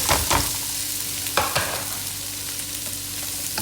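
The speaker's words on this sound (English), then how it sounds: "Keep stirring everything well" Spices and chopped boiled potatoes are stirred in a pan for dry masala aloo. A few sharp spatula knocks come near the start and around the middle over a steady low sizzle that fades slightly, and no one speaks.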